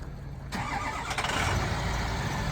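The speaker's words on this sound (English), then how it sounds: "It starts right up, sounds great. You can hear that now." A 2007 Ford F-550 bucket utility truck with a 6-liter Power Stroke turbo diesel cranks briefly and catches, settling into a close, steady, loud diesel idle with no talking over it.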